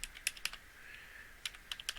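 Fingers tap on a computer keyboard in small irregular bursts of crisp, fairly quiet clicks, separated by a short pause, with faint background hiss and no speech.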